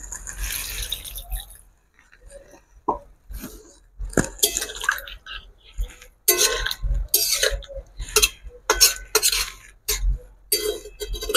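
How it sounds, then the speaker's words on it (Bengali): Water poured and stirred into Kashmiri aloo dum potatoes in a pot, with intermittent clinks of a spoon against metal, splashing, and scraping in uneven bursts, close and moderately loud. "আর একটু জল দেবো আমি এর মধ্যে।"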